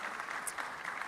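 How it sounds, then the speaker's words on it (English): An audience at an African fintech summit gives a short round of applause, a steady, moderately faint wash of many hands clapping together. "I think that deserves a hand clap."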